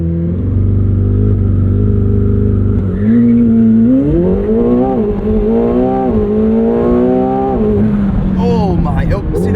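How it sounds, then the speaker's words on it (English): A 2025 McLaren 750S with a 740 hp twin-turbo V8 launching and accelerating hard, its loud engine note climbing through rising pitch sweeps with gear changes, heard from inside the cabin with a voice talking over it. "then you push launch, then you do full throttle, then you release brake"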